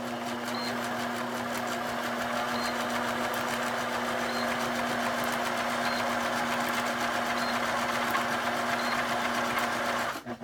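Sewing machine stitching back and forth across overlapped fabric layers of a quiet book handle, a steady continuous close-up whir with no pauses that cuts off right at the end.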